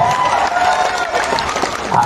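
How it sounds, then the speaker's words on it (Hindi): Crowd applause at a Hunar Haat fair in Guwahati, Assam, for a woman seated in the balcony, a loud burst of clapping with some cheering from a large audience, steady across the whole stretch. "मैडम के लिए जोरदार ताली बजाओ।"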